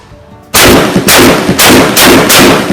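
A Remington 11-87 shotgun or a CMMG .22 is test-fired at a range, five loud close shots in a fairly even rhythm, each with a short ringing tail.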